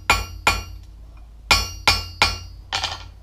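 Hammer blows on hot steel against an anvil while forging tongs: six sharp metallic strikes in two groups, ringing and loud at close range, with a short pause between the groups.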